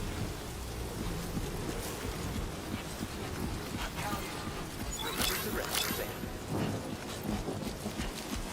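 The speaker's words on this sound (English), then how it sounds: "Oh, it's raining?" Rain pattering steadily in the video game Death Stranding 2, with a thunder rumble rolling in around the middle, fairly quiet and continuous while a voice occasionally speaks over it.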